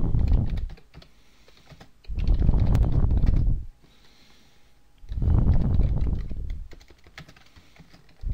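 Keys clatter on a computer keyboard as a chart title is typed in Excel, two close bursts of rapid typing separated by short quiet pauses.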